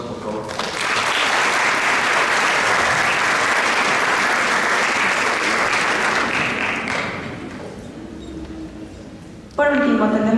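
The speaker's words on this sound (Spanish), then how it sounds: "Lo recibimos con un fuerte aplauso, por favor" A lecture audience welcomes a speaker with strong applause that builds quickly, holds steady for several seconds, then fades into scattered claps before a voice begins speaking.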